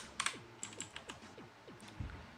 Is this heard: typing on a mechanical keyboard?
yes